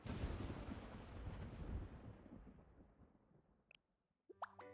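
Thunder from a thunderstorm in the game Blue Archive: a deep, broad rumble that rolls and slowly fades over several seconds, followed by brief soft game sound effects.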